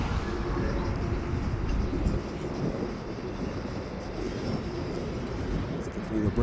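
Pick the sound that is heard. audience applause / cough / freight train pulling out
freight train pulling out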